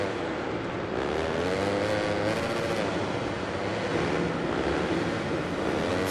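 A supercross motorcycle engine in the Monster Energy Supercross 6 racing game drones continuously and loudly, its pitch rising and falling steadily with throttle changes.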